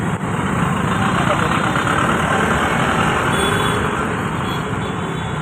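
A vehicle engine idles steadily and loudly up close, a continuous low rumble with no revving, lasting throughout.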